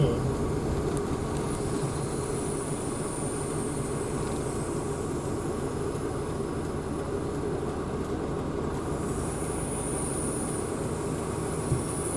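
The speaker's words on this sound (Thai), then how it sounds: "รถไฟมา" A train rumbles by in a steady, continuous roar with rattling wheels and a faint high squeal, heard from nearby under general traffic noise.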